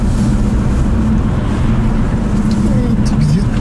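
A car engine runs steadily up close as the vehicle drives off, a constant low rumble with road noise filling the clip and no clear speech over it.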